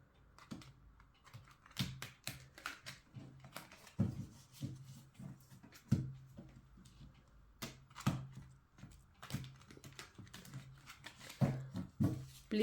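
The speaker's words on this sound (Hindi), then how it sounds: "मैं कार्ड्स को शफल कर रही हूँ" Tarot cards are shuffled by hand in a series of crisp, clicky bursts that repeat roughly every second or two. They are close and fairly quiet, with no talking.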